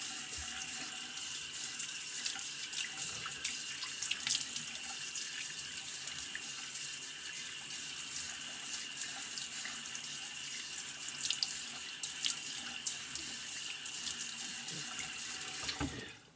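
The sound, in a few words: sink tap running water, rinsing razor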